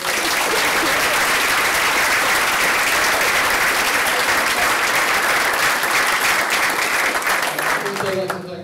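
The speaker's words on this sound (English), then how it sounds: "Can we have a round of applause?" Loud, dense applause from an audience at a college fashion show, steady for about eight seconds before tailing off at the end.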